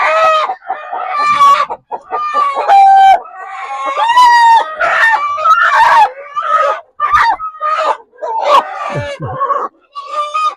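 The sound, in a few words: native roosters clucking and crowing on a poultry farm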